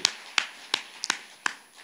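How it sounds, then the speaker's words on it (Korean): Scattered, fairly faint hand claps from a church congregation during a Sunday worship service, about six sharp separate slaps spaced unevenly in a quiet room. "하나님께 박수를 영광"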